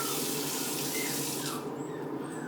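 Cold water runs steadily from a kitchen tap into a small bowl, a continuous close splashing rush that holds for the full stretch and eases slightly toward the end.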